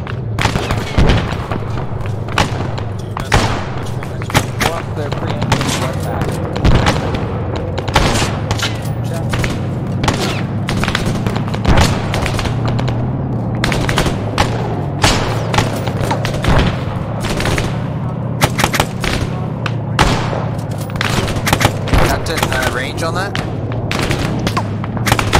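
Gunfire at a trench in a WWII video game set at Kasserine Pass, with dense rapid rifle and machine-gun shots and heavier booms, loud and continuous throughout, with voices talking over it.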